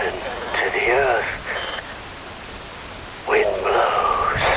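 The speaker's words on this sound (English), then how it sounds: "Rain falls." Rain falls in the Metal Gear Rising video game as a steady hiss of drops throughout, with a voice speaking over it in two bursts.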